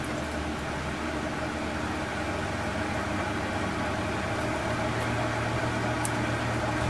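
A wood lathe turns slowly at about 450 RPM, giving off a steady, even motor hum with a low whine and a constant airy background, close and unbroken, with no voices.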